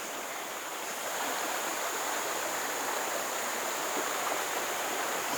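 Sungai Kimas, a clear river near Kampung Mapulu, flows in a steady broadband rush of water with no voices, close and constant throughout.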